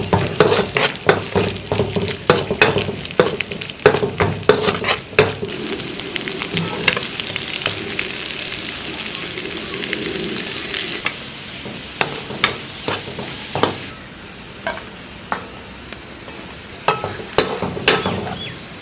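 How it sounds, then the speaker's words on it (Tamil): Raisins fry in ghee in a large wok for a big batch of kesari, a steady bubbling sizzle broken by frequent sharp scrapes and clatters of the ladle stirring them. "அதையும் நெய்யில வறுத்து எடுத்துக்கலாம்"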